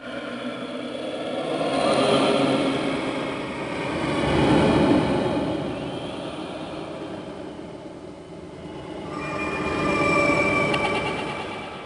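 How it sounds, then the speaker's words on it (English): Eerie, swelling ambient wind from the video game Bully rises and falls in slow waves, with faint ghost moans and whispers drifting through; no talking. "another unused ambient sound that plays mostly ghost moans, whispers and wind noises."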